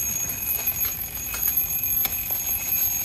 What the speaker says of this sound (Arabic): المنبه حقي بيرن دقيقة.